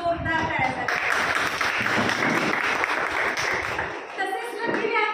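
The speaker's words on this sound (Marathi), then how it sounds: "जोरदार टाळ्या झाल्या" Loud, dense audience applause fills a Sangini Forum gathering of the Jain Social Group in Phaltan, with a voice speaking briefly at the start and end as the clapping swells and then thins.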